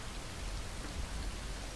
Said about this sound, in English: Khajiit would very much prefer if it stopped raining and thundering,